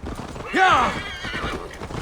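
A horse in the Assassin's Creed Valhalla video game lets out a sharp, shrill whinny over hoof clops, close and loud, with game voices talking around it.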